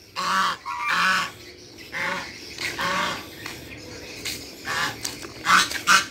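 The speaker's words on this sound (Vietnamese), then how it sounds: "rồi con ngỗng thì nó đang kiếm chuyện mình các bạn" A goose in a rural Vietnamese yard honks aggressively in repeated loud bursts, about eight calls in an uneven rhythm, close by and with no talk.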